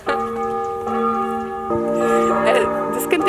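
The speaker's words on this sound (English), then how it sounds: "but then the church bell started ringing" A church bell in Slovenia rings out in several strong, sustained strikes that overlap and decay. A voice talks faintly underneath.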